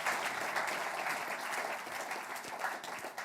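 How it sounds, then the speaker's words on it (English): Steady, dense applause from an audience at a public debate between politicians and economists, sustained at an even level throughout with no talking. "give him a round of applause"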